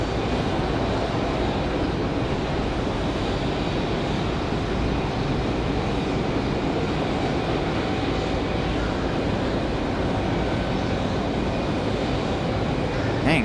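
Delta airliner departing Raleigh-Durham airport, bound for Atlanta on a windy day, its engines producing a steady broadband roar that holds evenly throughout, fairly loud and continuous with wind noise mixed in.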